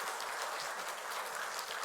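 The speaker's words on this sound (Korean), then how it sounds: "우리 사모님도 위해서 박수 한번 해주십시다." A church congregation applauds during a Sunday anniversary thanksgiving service, a steady wash of clapping from many hands, moderately distant and even throughout.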